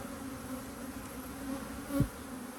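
A steady, close droning hum of many honey bees buzzing together at an open hive, with one louder buzz briefly passing near.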